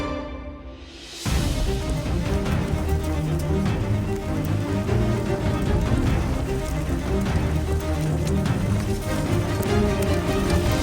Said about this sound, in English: Well, we got a little hail now.